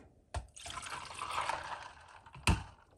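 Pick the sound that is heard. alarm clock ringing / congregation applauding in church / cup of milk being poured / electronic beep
cup of milk being poured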